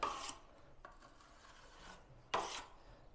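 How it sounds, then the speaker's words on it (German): A plastering trowel scrapes excess plaster off an interior window reveal while corner beads are set and meshed, giving two short, close rasping strokes at the start and near the end with quieter faint scraping between. "Und jetzt ziehe ich mal das überschüssige Material hier so ab."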